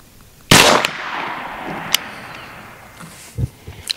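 One loud, sharp report from an AEA Challenger Elite air rifle fired at a 100-yard target, followed by a decaying swish and a few faint clicks and knocks.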